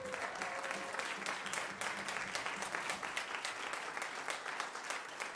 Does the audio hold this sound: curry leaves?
no